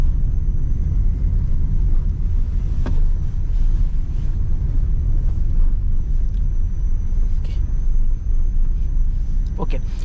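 A new 2025 Maruti Suzuki Swift drives along a road, heard from inside as a steady low engine and road rumble with wind noise, brief knocks and clatter over bumps, and someone talking over it.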